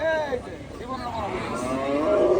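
Cattle at a livestock market near Ashulia low in a long, drawn-out moo with a rising harmonic tone. Market noise and chatter sit in the background.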